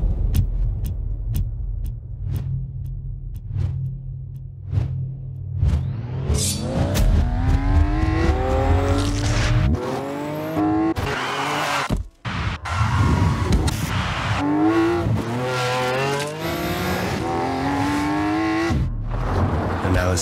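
A 2017 Lamborghini Aventador LP 750-4 SV Superveloce accelerates hard, starting with a low idle and sharp clicks, then a loud rising engine howl climbs through quick gear shifts with a brief cut, close and continuous, with no talking.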